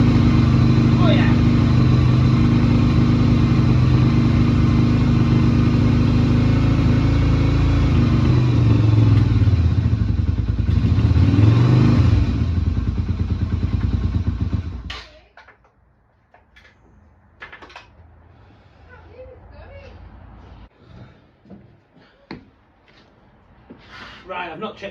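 A Yamaha Virago 250 motorcycle under restoration runs with a loud, steady engine idle for about fifteen seconds, then cuts out abruptly, leaving only faint, quiet background noise afterward.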